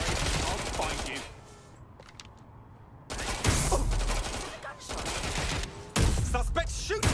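Gunfire erupts in bursts in Watch Dogs Legion, dense rapid volleys loud and close, separated by a quieter gap, with a final sharp burst near the end.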